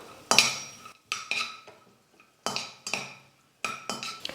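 Cashews and raisins roasting in ghee in a pan, heard as a series of bright metallic clinks and scrapes from a spoon against the pan, coming in short bursts with brief pauses between them, close and fairly loud.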